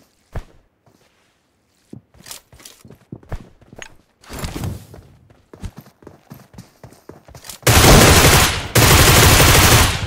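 Gunfire sounds in a mobile battle royale video game match. Scattered sharp shots and footsteps give way to two loud, dense bursts of rapid automatic fire near the end.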